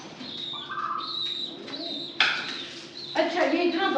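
Pigeons cooing close by while being fed grain outdoors, soft repeated coos and a few chirps, with a person talking over them throughout.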